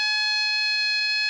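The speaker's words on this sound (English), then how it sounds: "here's two typical ship sirens" A steady, loud horn-like ship siren tone with rich harmonics, held continuously without a break.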